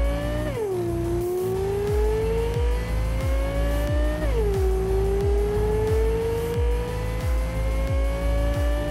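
Rayfield Caliburn hypercar in Cyberpunk 2077 accelerating hard, a loud whining engine climbing steadily in pitch with two rapid gear shifts and a rhythmic ticking beneath, close and continuous with no talk.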